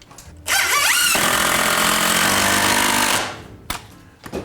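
A power drill drives a screw into an unfinished basement ceiling, giving one loud, steady, close whine for nearly three seconds, then stopping; a few light knocks follow.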